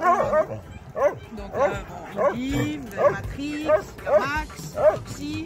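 Dogs at an animal shelter bark, yip and whimper in short repeated bursts, fairly close, running throughout under a person talking.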